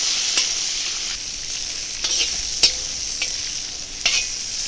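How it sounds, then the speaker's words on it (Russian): Pork brisket frying in a kazan over an open campfire, a continuous sizzling hiss with a few clicks and scrapes as it is stirred, close and without talk. "Прожариваем нашу грудинку. Ох, как зашипело,"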